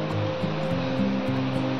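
A waterfall roars in a steady, dense rush of falling water, continuous and fairly close, with a faint low hum running underneath and no speech.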